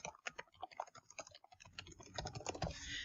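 Soft, close keystrokes on a computer keyboard while an email address is typed in, a quick uneven patter of clicks that grows slightly busier toward the end, alone without voices.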